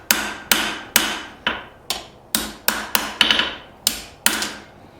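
Hammer blows straightening prepped steel stock for forging split cross hooks, about twelve sharp ringing strikes in an uneven rhythm, each ringing out briefly before the next, loud and close with no talking.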